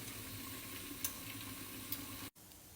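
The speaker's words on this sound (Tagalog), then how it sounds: "ito ay nagigisa ko pa yung vegetable ko" Vegetables sautéing in a pan give off a steady, soft sizzle close by, with a couple of faint ticks and a brief clatter near the end.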